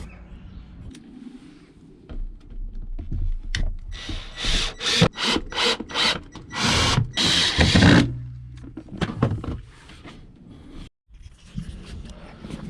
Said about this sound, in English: So now we need to mount the turret onto the floor by just screwing in each of the corners.